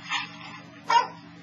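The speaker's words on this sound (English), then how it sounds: "Yeah, another nice dog." A dog gives two short barks or yips a moment apart, moderately close, over a quiet low hum with no talk.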